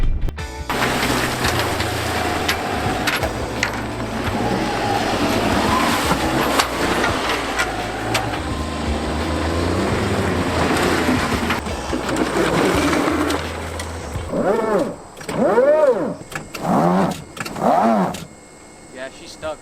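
A small electric car fitted with a Hayabusa motorcycle engine roars and revs continuously at close range while attempting to drift, then ends in a series of sharp rising-and-falling rev bursts with gaps between, over occasional voices.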